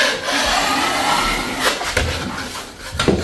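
Hand sanding over a drywall patch skimmed with compound, a steady dry rubbing scrape that continues nearly unbroken for a few seconds, close and moderately loud with a few firmer strokes near the end.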